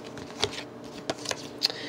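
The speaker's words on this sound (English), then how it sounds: "I want to shuffle these cards." Tarot cards shuffled by hand in a quiet room, giving a few brief soft riffles and taps spread across a couple of seconds with near silence between them.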